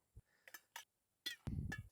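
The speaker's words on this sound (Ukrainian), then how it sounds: "Кожну банку накриваємо кришечкою." Metal lids set onto glass jars of pickled tomatoes standing in a deep towel-lined pot for sterilizing: a few light separate clinks, then a louder clatter with a low thud near the end.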